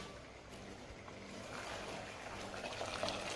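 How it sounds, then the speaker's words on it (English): A pot of water at a rolling boil for pasta, giving a low, steady bubbling hiss that stays faint and swells slightly toward the end, with no voices. "I have some water boiling here."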